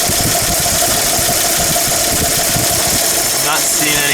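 A Chevy 235 straight-six engine runs just after a cold start, a loud rough idle with a rapid ticking, knocking pulse and steady vibration.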